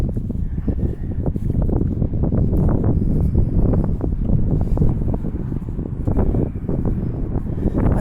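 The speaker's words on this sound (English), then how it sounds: "Now I'm hearing wind." Steady, loud wind buffets the microphone outdoors on a walk along Water Street toward a shipyard, a continuous low rumble with gusty swells and no talk.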